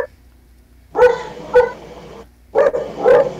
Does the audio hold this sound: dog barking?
yes